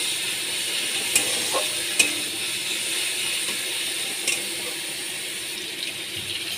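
Prawns and a spice paste of crushed tomato, onion, ginger, garlic and chilli with salt and turmeric sizzle in a pan, a steady hiss broken by a few scraping stirs, with no talking.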